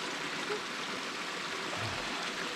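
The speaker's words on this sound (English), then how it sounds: "we found a brilliant water source fresh out of the Kaimana" Fresh stream water flows from a natural source in the Kaimanawa backcountry, a steady close rushing babble with no pauses and no voices.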